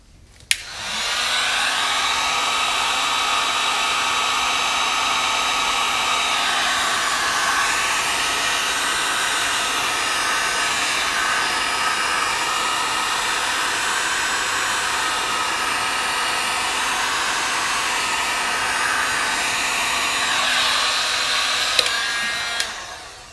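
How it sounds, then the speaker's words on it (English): A heat gun blows hot air over resin poured on a surfboard, a steady, loud, close whoosh that runs without a break for about twenty seconds and then clicks off at the end. "Get my heat gun again."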